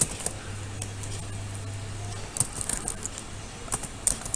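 Typing code on a computer keyboard produces irregular, close key clicks in short bursts over a faint steady hum.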